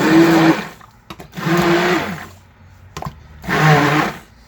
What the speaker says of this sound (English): I'm going to kind of blend this up a bit.